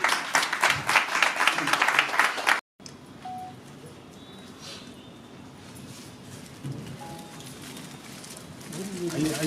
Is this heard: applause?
yes